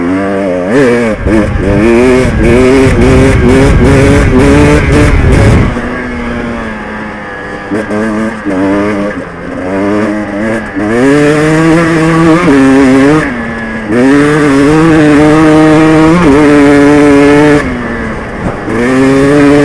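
Enduro motorcycle engine revving hard while riding off-road, loud and close, pitch rising and falling through repeated throttle bursts, with rough wind buffeting and a voice speaking briefly over it.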